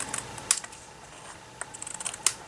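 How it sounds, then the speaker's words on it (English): Cardstock strips are trimmed for a greeting card fence background: a few sharp, crisp snips and clicks spaced irregularly over a quiet room, close and fairly soft. "Just go ahead and give that a trim."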